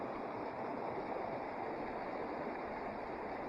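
Mountain creek running right beside a lake in the Trinity Alps near Forbidden Lake, a steady, full rushing of water that stays even and close throughout with no voices.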